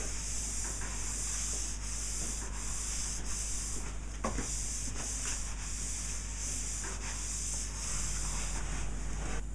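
Cloth wiping Danish oil across a wooden surface, a steady soft rubbing hiss in repeated strokes, close and continuous, with a faint brief knock midway.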